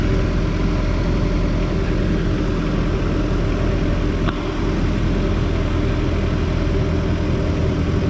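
A Honda S2000 engine idles after an oil change, a steady loud low hum with an unbroken even drone throughout and no talking.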